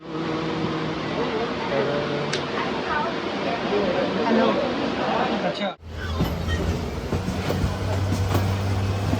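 The Darjeeling Mail train idles at a crowded Sealdah Station, Kolkata, a low rumbling hum with clattering and a murmur of crowd voices around it.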